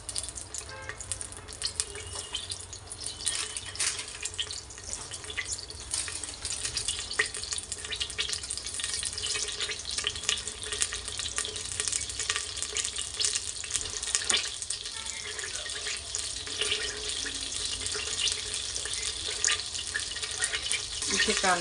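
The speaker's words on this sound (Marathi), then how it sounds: "जिरं टाकून घेणार आहोत" Cumin seeds sizzle steadily in hot oil inside a pressure cooker, a continuous hissing crackle that runs close and fairly loud throughout, with faint voices in the background.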